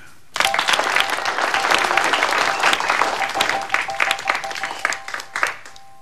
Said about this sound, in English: let's have a big round of applause for Jordan and Dude.